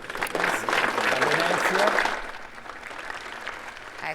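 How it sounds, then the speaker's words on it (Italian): A crowd applauds as a coffin enters a funeral in Venice, the dense clapping strong at first and then fading to a softer patter, with a voice speaking briefly over it. "con un applauso che davvero è iniziato quando è entrata il feretro già ieri e non termina nemmeno"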